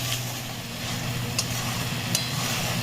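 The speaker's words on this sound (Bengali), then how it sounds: "এবার 3 মিনিট আমি কষে নেব।" Chicken kosha being stir-fried in a pan, a steady close sizzle and hiss with a few sharp scrapes or clicks from the spoon, no voices.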